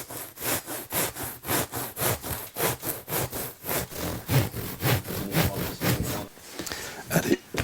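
A knife blade draws along a ruler through a wood fibre insulation panel in about twenty regular rasping strokes, close and steady, like a coarse saw working through soft fibrous board.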